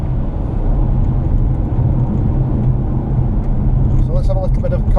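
Car driving along a rural country road in Finland, a steady low engine and road rumble continuing throughout, with faint brief sounds near the end.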